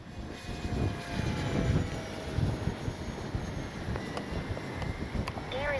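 An X-Fly Spitfire RC model plane flies at full speed into a strong wind, its engine a steady distant drone mixed with heavy wind buffeting on the microphone and a faint rising whine near the end.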